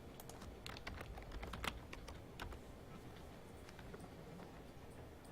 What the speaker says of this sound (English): So I'm pressing spacebar